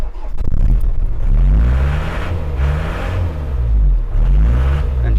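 A Ford Transit van engine, jump-started with a 1000 amp jump starter, cranks briefly then catches and runs with a loud, close, rumbling idle that swells and dips slightly.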